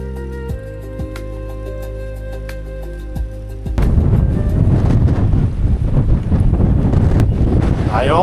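Wind gusts buffet the microphone at about 4,000 meters on a high Tibetan mountain road, starting after a steady tonal hum and then roaring loud and rough for several seconds.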